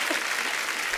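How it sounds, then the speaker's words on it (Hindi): A television comedy show's studio audience breaks into a brief burst of loud, dense clapping that fills the room. "इसमें भी तालियां."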